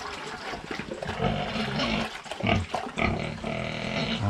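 Pigs on a small backyard farm grunting and oinking close by, with splashing water and bustling pen noise running steadily throughout.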